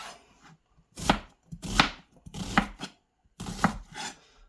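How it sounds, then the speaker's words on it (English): A knife cubes onion on a cutting board in four quick bursts of rapid, crisp chopping with short pauses between them, close and clear, with no talking. "So I've already trimmed up some onion. I'm just going to quickly cube that one up."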